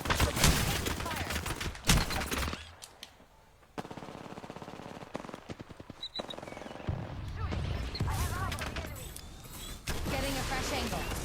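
Rapid automatic gunfire in Apex Legends, loud bursts and single shots crackling across a busy firefight with game effects and brief pauses between volleys.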